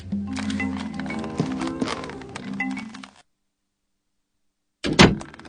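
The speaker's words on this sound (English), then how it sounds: "The door just unlocked." A door unlocking in the So Blonde video game: mechanical clattering and creaking for about three seconds, then silence, followed by a single sharp thud.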